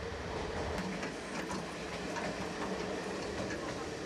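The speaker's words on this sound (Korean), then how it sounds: "어느덧 열차는 새벽 공기를 가르며 달리고 있습니다." A passenger sleeper train crosses China before dawn, giving a steady, dense rumble of wheels on rails with faint rhythmic clatter, heard from inside the carriage at a constant low level.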